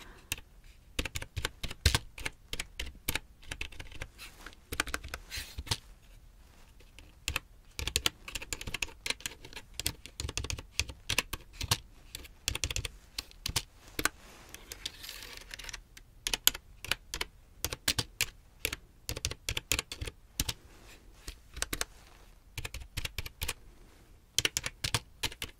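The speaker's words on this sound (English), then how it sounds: "I'm gonna go ahead and type this one in." Steady typing on a computer keyboard in an ASMR cranial nerve examination setting, with close, crisp key clicks in uneven bursts and brief pauses, and almost no talking.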